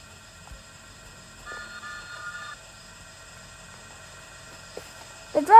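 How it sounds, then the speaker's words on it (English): Miniature railway engine number 21 at a level crossing by a transport museum, a faint steady hum and rumble with a brief whistle toot, then a louder sound rising at the end. "The driver of 21 whistles to alert people visiting the transport museum that this train is coming through."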